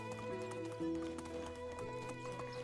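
A ridden horse in the medieval game Medieval Dynasty clip-clops along at a steady gait, hoofbeats mixed into a continuous bed of game music and ambience at moderate level.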